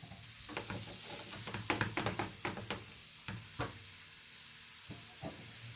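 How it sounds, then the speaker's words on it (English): Onions sautéing in a pan for meatloaf give a faint steady sizzle, broken by irregular clicks and scrapes of stirring that cluster in the first half and thin out later. "we're going to go ahead and start cooking our onions"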